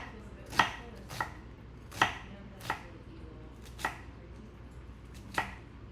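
A knife cuts through a raw salmon fillet on a cutting board, with seven crisp separate strikes at an uneven pace and no talk.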